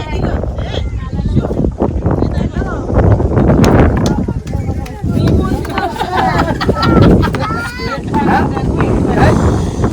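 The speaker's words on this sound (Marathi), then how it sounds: "वारा तर मारतो भरपूर." Strong wind at sea buffets the microphone in steady gusts aboard a fishing boat, with voices talking over the roar throughout.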